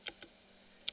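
Keys on a computer keyboard tapped during command entry in a Debian-based Linux setup, a few sharp separate clicks spaced out across a second with quiet between them.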